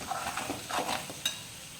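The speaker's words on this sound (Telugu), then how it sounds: "అల్లం పేస్ట్ వేసుకొని కలుపుకోవాలి." Ginger paste being stirred into frying potato curry, a brief close sizzle with a few scraping strokes of a spoon against the pan and one sharp click.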